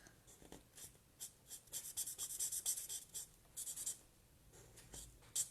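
A marker's nib end colors on a handmade card with soft, close scratching and rubbing strokes. The strokes come in quick bursts with short pauses between them, faint and heard alone.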